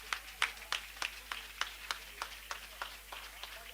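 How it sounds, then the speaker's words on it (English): Audience clapping for an honoree at a talk on personal growth, a sparse, fairly faint run of distinct individual claps at a steady rhythm, about three per second, with no talk over it. "If you know you've learned a lot today, keep clapping. I need you to keep clapping"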